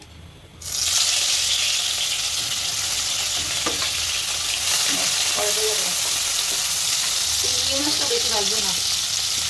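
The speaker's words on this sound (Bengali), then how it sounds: "চিংড়ি মাছটা এখন তেলের ভিতরে দিয়ে দেবো" Shrimp seasoned with salt and turmeric hits hot oil and erupts into a loud, steady sizzle and crackle that fills the rest of the frying, with a few faint scrapes of stirring.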